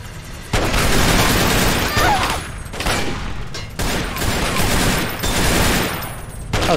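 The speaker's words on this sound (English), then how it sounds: "Oh, you have a minigun." Minigun fire in Fallout 3, sustained loud close rapid bursts broken by short gaps, with booming impacts mixed into the din.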